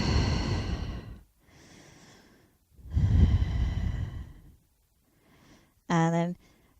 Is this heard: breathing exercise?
yes